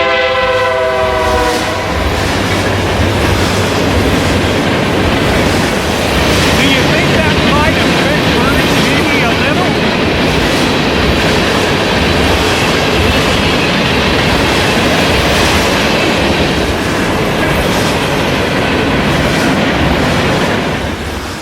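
A train rolls past on railway tracks near a birding spot, its horn blaring at the start before a loud, sustained roar and clickety-clack of wagons fills the whole stretch close by.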